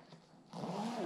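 A zipper on the back of a custom seat cover in a C7 Corvette is pulled closed in one smooth, close rasping stroke after a short quiet moment.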